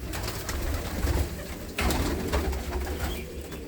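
Several large pigeons coo continuously in a loft, close and fairly loud, the soft throaty calls overlapping in a dense chorus with no talking.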